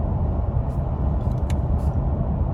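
A 2021 Toyota Tacoma TRD Off Road cruising at about 60 mph on a 108-degree day, heard as a steady, loud low road and engine rumble from inside the cab, with faint intermittent higher whooshes over the drone.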